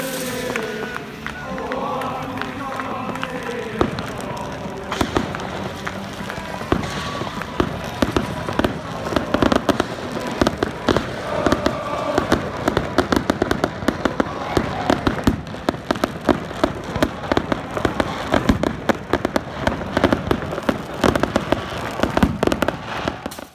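Fireworks burst in a dense, crackling barrage as Swedish champions AIK arrive at Skytteholms IP for their first winter training, with thousands of supporters cheering; sharp pops and bangs come continuously over a loud crowd roar.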